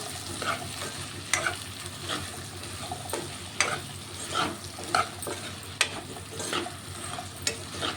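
Okra pieces frying in a pan for a tangy okra stew, stirred steadily, with a continuous close sizzle and regular scrapes and knocks of a spatula throughout.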